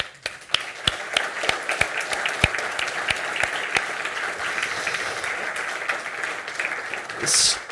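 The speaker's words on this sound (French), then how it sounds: "Félicitations, je vous applaudis" Sparse, separate claps from a conference audience at a tech talk, a handful of distinct hand claps ringing out over a hushed room, with a brief burst of noise near the end.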